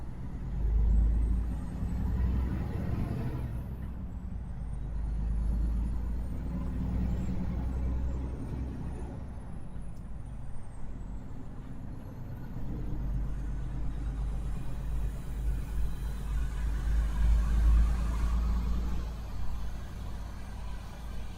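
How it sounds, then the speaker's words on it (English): Road traffic with trucks, a continuous low engine rumble of passing vehicles with swells as heavy trucks go by and a hiss like an air brake, steady and fairly close with no talk. "Everybody loves traffic."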